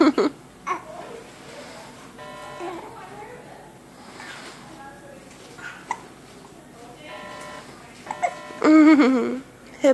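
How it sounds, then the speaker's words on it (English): A baby's hiccups, short sharp catches scattered irregularly among soft babbling and faint background noise, with a few louder bursts of babyish vocalizing toward the end. "Hiccups, hiccups."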